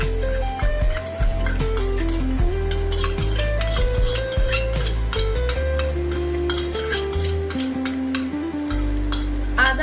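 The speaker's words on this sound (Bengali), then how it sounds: "রসুন বাটা দিয়ে ভালো করে কষিয়ে নেব" Onion browned in a pan, now with ginger and garlic paste added, sizzles and fries steadily while a utensil stirs and scrapes the metal, close and continuous with no talking, during a prawn and pointed gourd dish.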